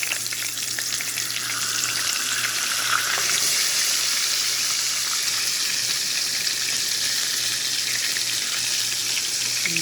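Fish frying in oil in a pan gives a steady, loud, broad sizzle that holds evenly throughout, with faint scraping from time to time and no talk.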